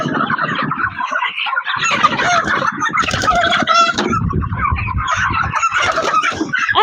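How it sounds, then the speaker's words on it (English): A loud, dense chorus of poultry calls at a farm where chickens are being picked out to buy, overlapping clucks and squawks close by, continuous throughout with no pauses. "as you can see there are some chickens everywhere"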